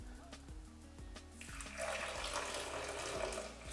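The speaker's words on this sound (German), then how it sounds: "gebe 150 Gramm lauwarmes Wasser oder Trinkwasser dazu" Lukewarm water pours steadily into a bowl of bulgur with a splashing rush, close and fairly quiet, after some soft background music.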